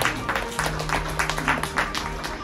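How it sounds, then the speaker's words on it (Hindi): Audience at a motivational talk applauding, a continuous wash of many people clapping at moderate distance, with a faint steady hum underneath throughout. "एक बार फिर जोरदार तालियां।"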